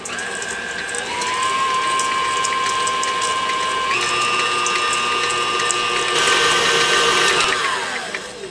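An electric mixer drones steadily while creaming butter and sugar for a pineapple pie, its motor pitch stepping up a couple of times as the speed changes, close and continuous with no talking.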